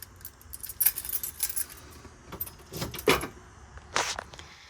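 Car keys jangling and clinking in bursts near a vehicle, several sharp metallic rattles spaced irregularly across a few seconds, close and clear with no speech.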